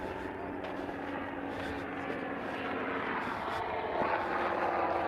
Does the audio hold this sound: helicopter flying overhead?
yes